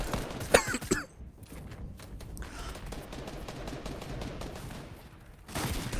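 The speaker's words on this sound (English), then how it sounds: "Excuse me for the coughing." Coughing into a microphone during a Fortnite match commentary: a short burst of harsh coughs near the start, then quieter background with faint game noise.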